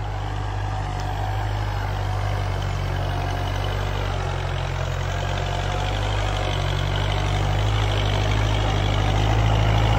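A Kubota MU 4501 tractor engaged in four-wheel drive runs steadily: a loud, continuous low diesel rumble with a slightly knocking idle character, close by and unbroken for the whole stretch.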